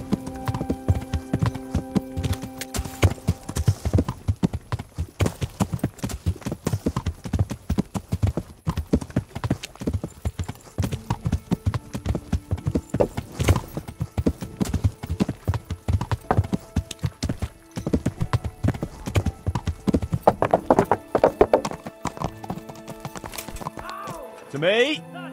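Rhythmic horse hooves from the video game Kingdom Come: Deliverance clip-clop steadily and close by for most of the clip, with voices talking over them and a brief whinny.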